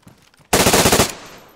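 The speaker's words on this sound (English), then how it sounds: "There's survivors around me, and I have an unsuppressed fucking SMG." Unsuppressed SMG fired in the survival game DayZ: one loud, rapid burst of about ten shots lasting roughly half a second, followed by a fading echo.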